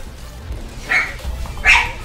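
A house dog barks twice in quick yaps set off by the doorbell, close and fairly loud over a low background hum.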